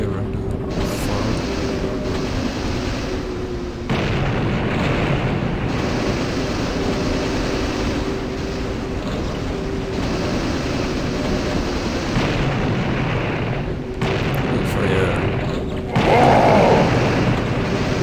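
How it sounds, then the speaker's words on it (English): Cannon blasts and explosions boom in the retro shooter Blood: Fresh Supply, set aboard a train, with heavy rumbling bursts and layered mechanical noise filling a long stretch, punctuated by sharper changes in loudness. "So turn the cannon here and fire."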